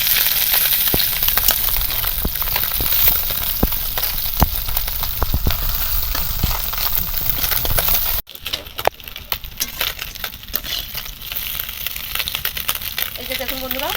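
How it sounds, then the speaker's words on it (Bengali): Small mourala fish fry lightly in oil in a pan, a loud crackling sizzle with faint clinks that drops suddenly to a quieter, sparser spatter partway through. "এর দুদিকেই একদম হালকা করে ভেজে নিতে হবে"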